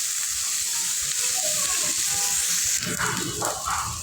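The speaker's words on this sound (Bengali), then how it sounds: "তেলটা গরম হয়ে আসলে আমরা এখানে পেঁয়াজ কুচি দিয়ে দিব, মরিচ কুচি দিয়ে দিব।" Chopped onion and chili frying in hot oil, a steady broadband sizzle that holds throughout, with a brief stirring disturbance late on.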